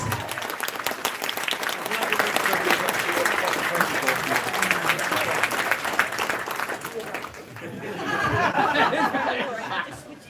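A crowd at the Minamicon 25 convention closing ceremony breaks into loud applause mixed with chuckles and chatter, the clapping fading briefly near the end before a second burst of clapping and murmuring voices.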